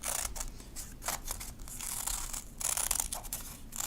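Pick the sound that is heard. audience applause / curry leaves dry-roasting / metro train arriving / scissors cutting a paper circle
scissors cutting a paper circle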